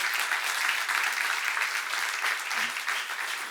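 Church congregation applauding during a sermon seminar, a continuous wash of hand-clapping throughout, fairly soft and even, with a short low voice breaking in briefly.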